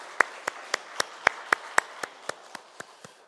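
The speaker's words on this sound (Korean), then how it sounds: "하나님 앞에 영광의 박수를 드리겠습니다" Evenly paced, sharp claps ring out about a dozen times in steady unison during a Korean church dawn prayer service, each clap distinct and fairly close against a quiet room.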